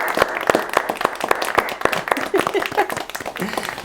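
Studio audience applauding a podcast guest, a dense round of clapping close to the mics, with a few voices under it.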